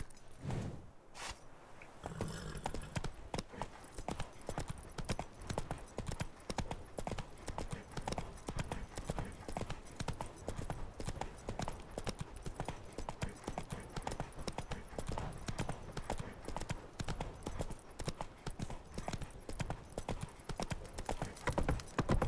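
Roach the horse trotting in The Witcher 3, with steady rhythmic hoof clip-clops that continue evenly and closely for the whole stretch after a brief rustle at the start.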